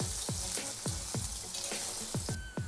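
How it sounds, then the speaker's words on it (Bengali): Potatoes lightly frying in a pan give off a continuous close sizzle, punctuated by several sharp popping crackles at irregular intervals, with no voices. "হালকা করে ভেজে নেব।"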